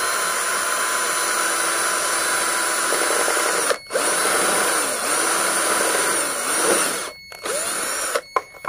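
A power drill bores a hole through material for a homemade dustpan, whining steadily and loudly at close range, with brief pauses near the end as the bit stops and restarts.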